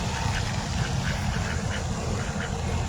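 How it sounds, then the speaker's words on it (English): Ducks quacking on a city park pond, a cluster of small ducks calling in short repeated quacks over steady outdoor ambience and a constant low rumble. "There are a bunch of little ducks in here."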